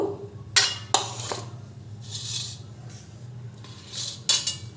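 A knife slicing a pineapple very thinly, heard as a few sharp, separate cutting strokes against a board with quiet gaps between them, close and fairly soft.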